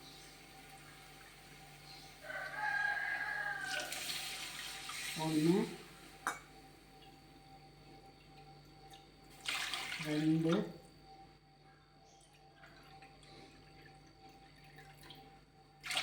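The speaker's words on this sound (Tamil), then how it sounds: "அதனால் நம்ம 3 கப்பு ஊற்றிக்கலாம்." Three cups of water are poured into a cooking pot in two separate splashing pours, several seconds apart, while a voice counts aloud in between.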